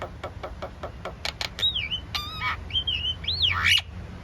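Myna birds on a rooftop give a quick run of sharp chirps, then whistled, sliding calls and squawks, fairly close over quiet background noise.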